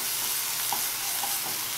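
Onion and tomato sautéing in a pan give a steady, close sizzle of frying with a few soft stirring scrapes, no voices.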